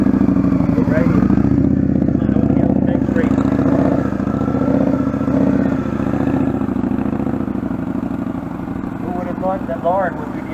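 A motorcycle in a rider-training session, leaning right and picking up a little speed, its engine a steady mid-pitched drone throughout with faint clatter and occasional revving, heard under an instructor's continuous spoken coaching.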